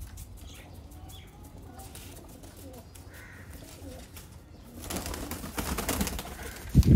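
Large high-flying pigeons coo and flap their wings, the flapping growing louder and busier toward the end over a noisy outdoor background, with faint talk.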